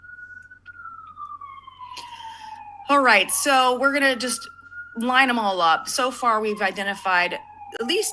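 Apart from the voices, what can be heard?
passing emergency siren in New York City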